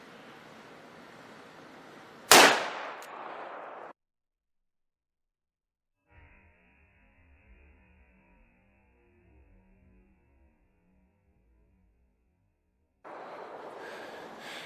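A single .357 Magnum gunshot fired into a clay block from about seven yards outdoors, one very loud sharp crack against steady wind noise, followed by quiet and then the wind returning.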